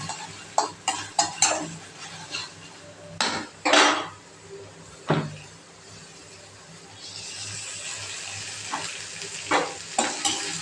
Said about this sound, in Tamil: வெங்காய தக்காளியும் கொஞ்சம் வதக்கிக்கிறேன்